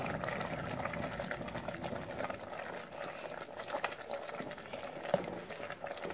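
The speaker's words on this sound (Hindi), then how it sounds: "साग हमारा पक रहा है" Sarson ka saag simmers covered on a low flame, giving a steady soft bubbling and gurgling that runs evenly throughout with no talk.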